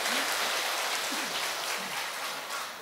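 Applause from a church congregation for the choir, a steady broadband patter of many hands clapping together, fairly even throughout with faint voices underneath.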